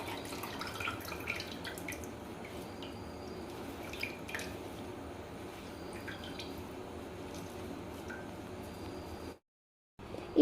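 Water drips from freshly washed chhena being gently squeezed for rasgulla, a faint scatter of small irregular drips over a quiet background.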